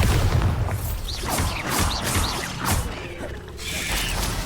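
Bombarda explosion spell cast in the video game Hogwarts Legacy, with booming, crackling bursts and mechanical clatter spread across the clip over a low rumble, moderately loud without speech.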